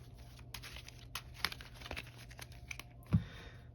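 A deck of Yu-Gi-Oh trading cards is shuffled by hand, giving quiet rapid crisp flicks and riffles with a sharper snap near the end, close up with no talking.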